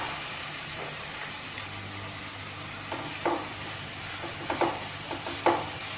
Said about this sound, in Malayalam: ഇതിലേക്ക് 2 വലിയ സവാള ചെറുതായിട്ട് നുറുക്കി വെച്ചതാണ്, അത് ചേർത്ത് കൊടുക്കാം